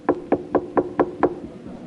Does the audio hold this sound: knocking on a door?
yes